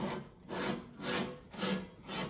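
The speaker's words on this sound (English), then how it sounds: "So I have to take that shaft and shift it closer to the motor because it's rubbing" A diamond slab saw wheel rubs against its housing, making a faint rhythmic scraping that repeats about every half second, five strokes in a row, each swelling and fading.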